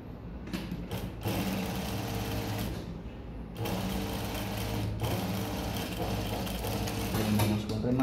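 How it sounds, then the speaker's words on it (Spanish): A sewing machine stitches a blouse shoulder seam in long, steady runs of dense mechanical whirring, broken by a couple of short pauses, with a faint voice underneath. "Vamos a coser por esta parte, un poquito más hacia adentro la costura."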